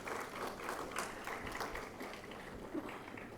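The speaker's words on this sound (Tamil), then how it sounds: "ஒரு பெரிய கைத்தட்டல் கொடுக்கலாம் அவங்களுக்கு" Audience applause fills a Tamil devotional literature festival hall at a university gathering, a dense steady wash of many hands clapping that holds loud and continuous throughout.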